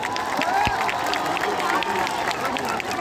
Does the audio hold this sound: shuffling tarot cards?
no